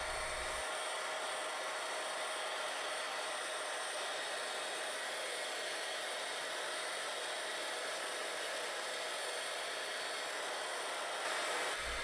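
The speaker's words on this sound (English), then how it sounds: "in the end of the vacuum hose to catch the static grass that you" A vacuum cleaner hose with cloth over its end sucks up loose static grass, giving a loud, steady broadband roar that runs unbroken for the whole stretch, with no voices over it.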